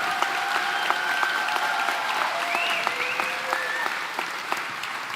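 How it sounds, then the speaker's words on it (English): Audience in a room at a graduation ceremony clapping for the graduates, steady sustained applause with a few whistles and cheers rising over it. "give everybody in this room, the graduates, a big round of applause for that."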